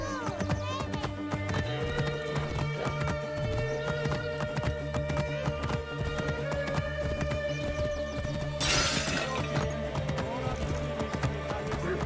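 A horse gallops in the Assassin's Creed Origins video game, with rapid, steady hoofbeats running continuously beneath loud, dense game music and effects.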